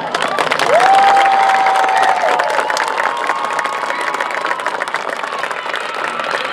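Band night crowd at a high school marching band event applauding and cheering, a broad steady wash of clapping with scattered shouts and a sustained whistle-like tone early on, fairly loud and continuous throughout.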